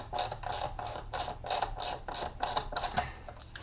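A ratchet tightening a car battery hold-down clamp: about nine quick bursts of close, crisp metallic clicking in a steady back-and-forth rhythm.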